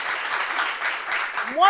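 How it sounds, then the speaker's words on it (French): A TV studio audience applauds in a steady, dense patter of many hands, fairly loud, with a voice rising briefly near the end. "C'est vrai, on vous a dit d'applaudir, mais c'est bon."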